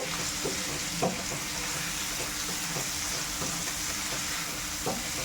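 Salted chicken pieces being sautéed in a pan, a constant close sizzle with periodic spatula scrapes and taps breaking through, steady and fairly loud, no voices present.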